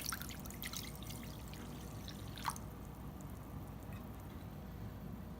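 Cold water poured into a cup for a beef snack stick recipe, a brief trickling and dripping at the start that fades into quiet room tone, faint and close.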